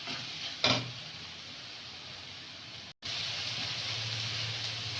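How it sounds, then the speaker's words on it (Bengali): Ginger paste and masala fry and get stirred in a pan in a Bengali village kitchen, giving a steady broadband sizzle with a brief scrape near the start and a short gap before the frying hiss resumes. "দিয়ে দেবো আদা বাটা, দিয়ে মশলাটা ভালো করে কষে নেব"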